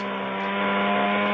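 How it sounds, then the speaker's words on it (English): A buzzing small-engine sound effect, played as a chainsaw or lawnmower, drones steadily with strong harmonic tones and swells slightly louder partway through. It is heard alone with no talking. "You have chainsaw down here, but that's a lawnmower."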